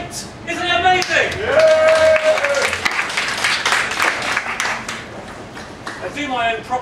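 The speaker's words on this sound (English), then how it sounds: "a round of applause for the tent!" A festival crowd in a tent breaks into applause, the clapping rising and swelling over a mix of cheers and voices, then easing off as talk returns.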